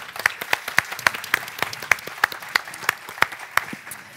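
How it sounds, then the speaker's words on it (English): Sparse, scattered clapping from a small audience, individual claps distinct and fairly close, tapering off near the end. "Give them a big hand of applause."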